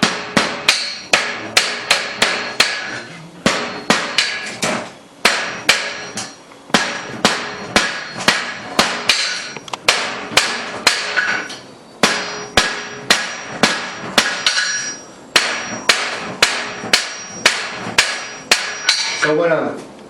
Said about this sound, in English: So when I'm hitting with my hammer to draw it out